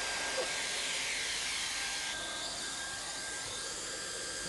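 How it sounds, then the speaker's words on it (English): An automatic hot welding machine runs along floor joints, melting a welding rod into the seams at 350 to 400 degrees; a steady, close blowing hiss like a hot-air blower fills the scene without pause, shifting slightly in tone partway through. "This machine seals the joints at a speed of 4 to 6 running meters per minute"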